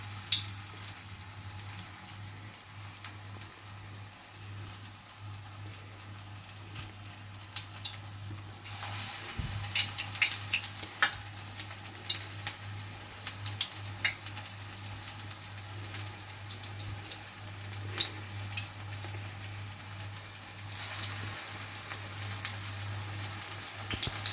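Prawn fritters frying in hot oil give a steady crackling sizzle. It grows busier and brighter partway through, with scattered pops and spits and a constant low hum underneath, and no talking.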